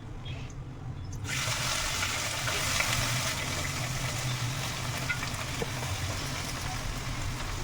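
Okra hits hot oil already tempered with seasonings in a home kitchen and sizzles loudly, a dense, steady hiss after a short quiet start, close to the pan.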